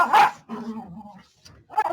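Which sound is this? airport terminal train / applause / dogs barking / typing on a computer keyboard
dogs barking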